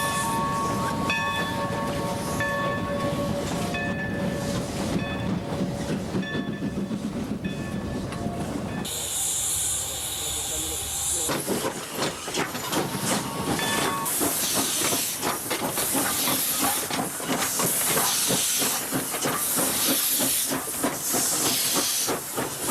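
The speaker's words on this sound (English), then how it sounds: "The perky Mike pulls out of the roundhouse lead and backs down to pick up her train." Steam locomotive of a mixed train pulling out of a roundhouse lead on a Central American railway, loud hissing steam bursts and rhythmic chuffing with clanking, close by, after a stretch of engine noise.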